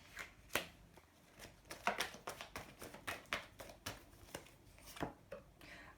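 Tarot cards being handled and shuffled, a quiet, close run of irregular papery snaps and flicks.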